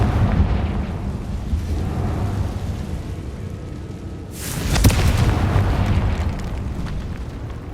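Confringo blasting spell exploding in the video game Hogwarts Legacy, a sharp burst partway through over a rumbling low background, followed by a lingering crackling roar.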